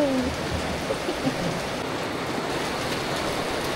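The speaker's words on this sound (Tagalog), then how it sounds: "Sobrang lakas ng ulan." Steady heavy rain pours down in a dense, constant hiss with a low rumble underneath, continuous throughout.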